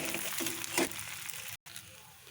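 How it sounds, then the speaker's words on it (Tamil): Kozhukattai dumplings made from mappillai samba rice flakes are stirred in ghee in a pan with the stove switched off, giving a soft, steady sizzle and scraping with a brief break near the end. "இதே இப்போ நம்ம கிளறிடலாம்"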